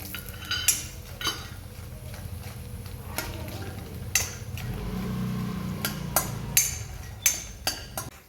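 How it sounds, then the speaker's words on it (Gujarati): Makhana (fox nuts) frying in ghee in a pan, a low steady sizzle under repeated sharp clinks and scrapes of a metal spoon stirring, close and fairly quiet. "હવે આપણે ફ્રાય કરીશું મખણા ઘીમાં"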